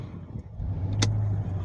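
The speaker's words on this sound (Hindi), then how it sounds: "तो अब गाड़ी चालू करेंगे" A 2016–2018 Mercedes-Benz GLE 350 with an auxiliary battery fault starts up: a brief click and whoosh, then the engine settles into a low, steady idle hum heard up close with no talking.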